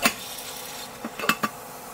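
A metal pot pressed down onto sausages cooking in a pan, giving a few sharp metallic clanks and taps, near and brief, against a quiet background.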